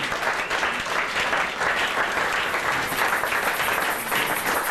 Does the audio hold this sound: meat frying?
no